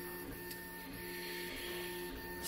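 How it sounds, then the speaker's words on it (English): A V-Baby DIY CoreXY 3D printer lays down a first layer of PETG at a steady pace, giving a continuous motor whine with stable tones and faint periodic clicks, close and without any voices. "Printing at 50 millimeter a second on the first layer."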